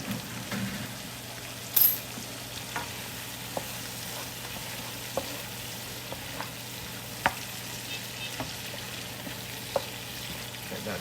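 Cabbage sautéing with leftover pork in a pan for a late-night stir fry, a soft even sizzle with sparse light taps of a utensil and one brief louder clatter near the start, fairly quiet, no talking.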